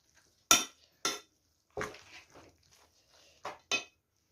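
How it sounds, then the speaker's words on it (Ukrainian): Potato pancake mixture stirred in a bowl with a utensil, six separate scraping clinks at uneven intervals, close and otherwise quiet. "Теж перемішаю, трошечки вимішаю."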